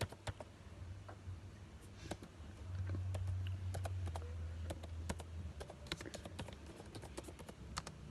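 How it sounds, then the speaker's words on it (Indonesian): Quick, irregular keystrokes on a computer keyboard, soft and close, with clusters of clicks over a low steady hum and no talking. "Kita ngetik juga ya guys."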